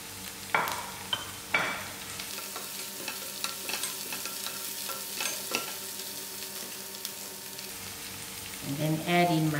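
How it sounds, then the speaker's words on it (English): Green chilies go into a hot pan for tinned pilchard chutney, giving a soft continuous sizzle broken by a few sharp clatters and stirring knocks. "Now I'm going to add in my green chilies to fry with."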